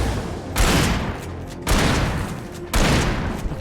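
Shotgun firing in a video game: three loud, separate booming blasts, each with a decaying tail, roughly a second apart.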